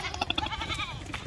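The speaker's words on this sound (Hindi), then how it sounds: "ये देखें माशाल्लाह शरारती भी होती हैं टेडी बकरे" A Teddy goat bleats in several quick, wavering calls at close range, with faint farmyard background noise and no talking.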